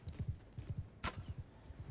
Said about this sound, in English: I can hear hoofs.